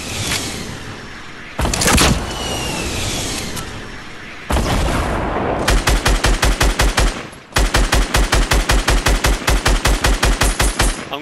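Gunfire in the video game Fortnite, with a few loud blasts followed by long rapid automatic bursts of evenly spaced shots, close and dominant.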